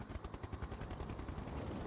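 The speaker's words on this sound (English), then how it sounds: "Siege chopper checking in." A siege chopper helicopter in a strategy video game gives a steady, rapid rotor thump with a dense mechanical roar, loud and continuous across the short stretch with no voices over it.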